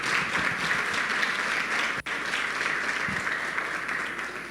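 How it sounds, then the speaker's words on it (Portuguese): A congregation applauds in a church, a steady, moderately distant wash of clapping with a brief interruption midway, continuing evenly to the end. "Você pode aplaudir o Senhor por isso?"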